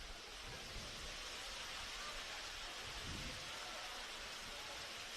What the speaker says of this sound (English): So the rain is falling here at Olympic Village.